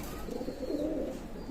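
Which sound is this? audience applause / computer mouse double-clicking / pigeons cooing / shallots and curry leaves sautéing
pigeons cooing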